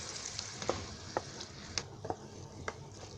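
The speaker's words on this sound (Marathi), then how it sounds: "आता मसाला आहे ना चांगला भाजून घ्यायचा आहे मला" Ground masala paste roasting in a pan for a Marathi field-bean rice dish: a quiet, steady sizzle with a few sharp ticks and scrapes from stirring, close by and faint.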